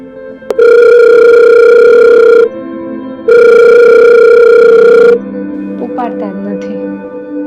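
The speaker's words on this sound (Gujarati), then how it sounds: "એકવાર તમે ફોન લગાવ્યો ઉપાડતા નથી પણ બીજી વાર ટ્રાય કરું" Mobile phone ringback tone on an unanswered call: two long, loud steady tones separated by a short gap, then quieter background noise with faint sounds afterward.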